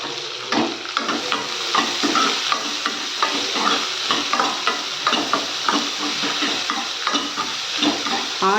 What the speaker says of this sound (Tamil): ஆனியன் பார்த்திங்கன்னா நல்லா பாருங்கள், நல்லா 3/4 பதத்துக்கு வதக்கிக்கணுங்க.